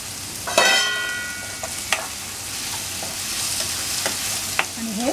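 Chopped onion and tomato with salt being mixed in a hot pan, a close scraping stir with a few sharp spatula taps over a low sizzle, no voices.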